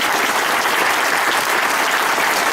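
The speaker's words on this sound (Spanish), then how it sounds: "brindémosle un fuerte aplauso al maestro Paco Ignacio Jaime." A book fair audience applauds a speaker with dense, steady clapping that fills the room loudly and evenly from start to finish.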